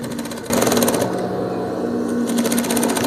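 An electric sewing machine runs a close, steady stitching whir while joining skirt panels with a French seam, wrong sides together, briefly pausing and resuming with a slight change in pace.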